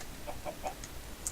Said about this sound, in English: I need a second chicken. More chickens.